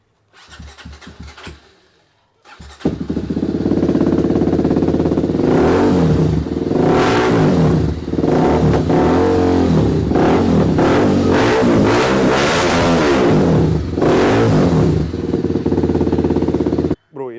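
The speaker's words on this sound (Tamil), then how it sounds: "ஆகர் எக்ஸாஸ்ட் பார்த்துலாமா? சவுண்டு ஸ்டார்ட் பண்ணி காமிச்சு." A TVS Apache RR310 motorcycle fitted with an aftermarket exhaust starts up close by and is revved hard in repeated loud, throaty bursts that hold high for long stretches, after a brief quieter noise at the start.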